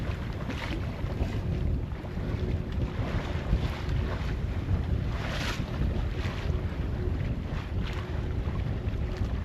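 A sailboat with its mainsail up gathers speed under way, giving a constant roar of wind buffeting the microphone over rushing water and waves, loud and unbroken throughout, with no talking.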